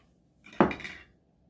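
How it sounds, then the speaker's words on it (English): Ingredients for a pumpkin dump cake tipped into a big mixing bowl, a single close clatter and rattle lasting about half a second in a quiet room. "you're going to put most of these ingredients, most of them, in this big old mixing bowl"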